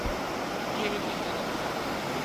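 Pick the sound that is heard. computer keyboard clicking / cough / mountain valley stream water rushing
mountain valley stream water rushing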